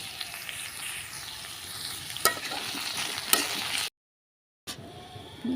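Bottle gourd sautéing with ginger, green chilli, salt, turmeric paste and chilli powder, a steady frying sizzle with occasional sharp stirring scrapes, then a brief silence before the sizzle resumes.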